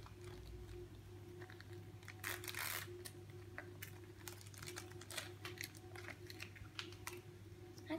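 A Pikmi Pops surprise toy package is opened up close, with quiet plastic crinkling, tearing and scattered clicks and taps over a faint steady hum, and no talking.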